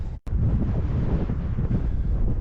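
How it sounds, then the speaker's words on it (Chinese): Strong winter wind blows hard at an outdoor campsite in Xinjiang, roaring and buffeting against the microphone in loud gusts after a brief dropout at the start, with no voices. "今天风很大，无人机飞不了"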